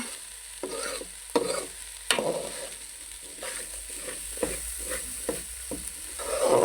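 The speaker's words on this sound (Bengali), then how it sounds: "এখন আমি একটু ভালো করে ভেজে নিতেছি চাল ডালটাকে" Rice and lentils frying in a pan for vegetable khichuri, stirred repeatedly: rhythmic scraping strokes over a steady sizzle, close and clear, with no talking.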